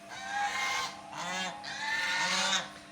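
Loud honking calls from farm ducks and poultry gathered together in a cool spot on a livestock farm, several harsh overlapping calls in bursts with no talking.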